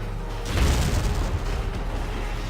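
A mortar fires in the video game Valkyria Chronicles, a single deep, heavy boom that swells suddenly and then rumbles low and steady before slowly settling.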